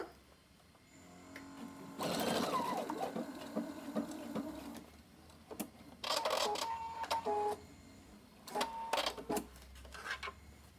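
Domestic sewing machine stitching a backstitch while a zipper is set into a simple piped pouch, running in several rapid whirring bursts with brief pauses between, close and clear with no talking.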